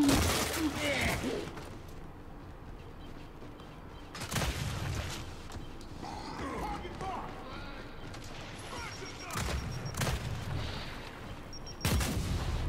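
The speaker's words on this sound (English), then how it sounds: "My boy just launching nades." Grenades going off in a first-person shooter free-for-all match, several loud bursts spaced a few seconds apart over gunfire, with a voice talking throughout.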